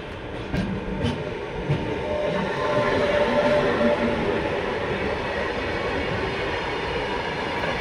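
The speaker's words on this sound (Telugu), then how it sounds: "సో మన ట్రైన్ అయితే మదీరా స్టేషన్ నుండి అయితే స్టార్ట్ అయిపోయింది." An LHB coach of the Satavahana Express runs on after leaving Madhira station, a steady loud rumbling roar with faint rhythmic rail clatter and a brief whistle-like tone early on, heard from inside the train.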